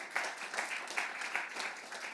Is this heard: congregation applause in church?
yes